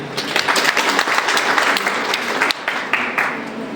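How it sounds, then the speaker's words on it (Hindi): An audience at an ICT workshop breaks into loud, dense clapping that thins and tapers toward the end, with a few sharp individual claps standing out. "तो एक बार जोरदार तालियां।"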